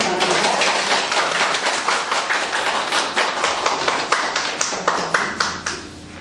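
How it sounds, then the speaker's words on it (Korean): Audience applause welcoming a guest lecturer at an indoor archaeology talk: dense, steady clapping from a crowd, fairly loud and close, with sharper individual claps standing out as it begins to thin toward the end. "이영덕 강사님을 뜨거운 박수로 환영해 주시기 바랍니다."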